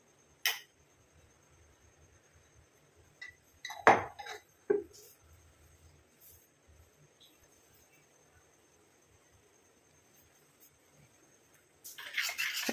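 A spoon clinks and scrapes against a bowl while stirring mustard mixed with oil into a hair dye, giving a few sharp taps and faint scraping amid quiet room hum, with a louder rattle at the end.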